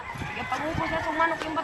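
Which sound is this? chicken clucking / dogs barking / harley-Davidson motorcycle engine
chicken clucking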